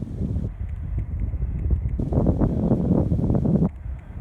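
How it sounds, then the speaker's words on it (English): Wind blowing across a hayfield on a spring evening: loud, gusty rumbling against the microphone, surging and easing without a break and drowning out quieter sounds. "Especially when the wind's blowing like this today."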